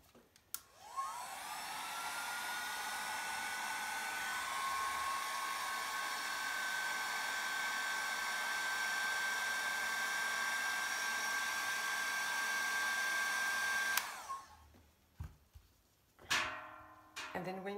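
An airbrush blowing alcohol ink, a steady airy hiss with a faint whistle running continuously for about fourteen seconds before cutting off, followed by a few short bumps and handling noises.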